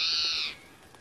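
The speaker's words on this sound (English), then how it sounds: "Is that a bird?" A single loud, close bird call, a harsh cawing screech about half a second long, cuts off abruptly and leaves a quiet background with no voices.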